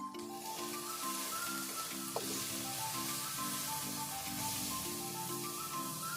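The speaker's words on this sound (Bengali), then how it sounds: "তো এভাবে কিছুক্ষণ মশলাগুলো একই সাথে ভালো করে কষিয়ে নেব" Spice paste of salt, turmeric and chili powder fries in a pan with a continuous bright sizzling hiss, heard steadily under background music with a single faint stir click.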